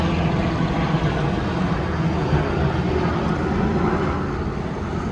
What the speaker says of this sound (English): Really, helicopters?